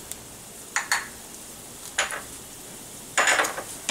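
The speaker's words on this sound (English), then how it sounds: "We're just going to saute all of this until the onions and the garlic are nice and soft." Onions, garlic and capers sautéing in a pan while cooking salted cod, a few soft sizzling and stirring bursts spaced apart over a quiet background.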